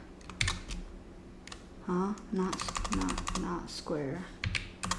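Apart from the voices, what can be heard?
typing on a computer keyboard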